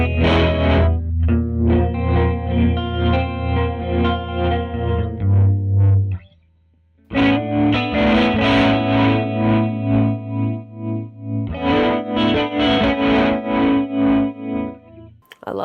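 A guitar runs through a Catalinbread Tremolo8 pedal set to chorus, placed before the drive of a dirty amp, giving mellowed, warbling distorted chords; it plays loud and steady, stops briefly, then resumes.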